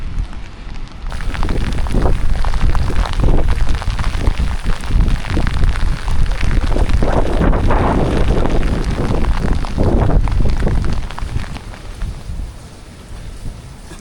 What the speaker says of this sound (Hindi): बड़ी तेज़ बारिश लगी हुई है भाई साहब